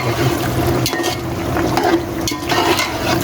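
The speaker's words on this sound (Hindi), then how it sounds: "छोले डाल के हम इनको अच्छे से भूनेंगे।" About 750 grams of chickpeas fry in hot oil in a pot while being stirred, a steady loud sizzle with scraping and clinking of the spoon against the pan, no talking.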